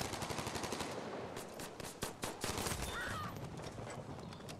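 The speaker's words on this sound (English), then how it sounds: "Someone tried to shoot him." Rapid automatic gunfire from the video game Battlefield 5 crackles in dense, overlapping bursts, a steady barrage of loud shots with a few heavier blasts, with no talking.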